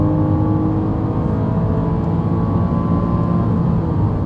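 A race car on the Magny-Cours circuit accelerating onto the fastest straight, its engine a loud, steady, close droning roar with strong low harmonics throughout, and no voices.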